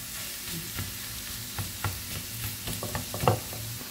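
Ground meat and carrots stirred in a hot pan, a steady sizzle with scraping stir strokes and a few sharper clatters toward the end, close and continuous with no talking.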